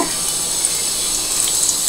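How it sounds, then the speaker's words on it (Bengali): A steady, close sizzling hiss of cumin seeds frying in hot oil, with faint stirring and no voices. "সাদা জিরাটা জাস্ট কয়েক সেকেন্ড একটু নাড়াচাড়া করব"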